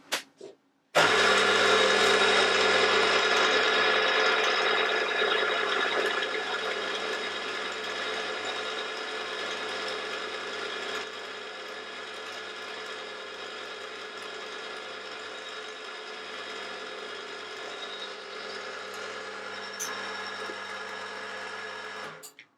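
A milling machine spindle drives a centre drill into a metal part for a spring-loaded tap guide, starting abruptly and settling into a steady, close whirring machine whine that runs continuously, easing slightly in loudness as the cut goes on.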